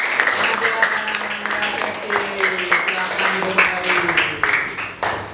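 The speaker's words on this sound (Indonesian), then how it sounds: "tepuk tangan untuk" Students in a classroom clap together in a short burst of applause, rapid overlapping claps close by lasting several seconds, with a teacher's voice over it.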